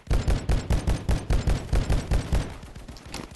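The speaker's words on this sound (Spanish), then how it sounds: "nos disparan" Rapid gunfire in the battle-royale video game Battle Guys, a loud burst of closely spaced automatic shots in a steady rhythm that fades after a couple of seconds into quieter scattered shots.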